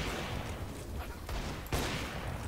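Gunfire rattles through a video game shootout map, with bursts of rapid shots and sharp cracks overlapping across the short span under a dense, noisy mix.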